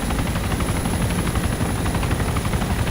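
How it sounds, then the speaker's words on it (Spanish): Helicopter in the video game DayZ, heard as a loud, close, continuous rotor thrum with a rapid steady chop. "Vete con el helicóptero."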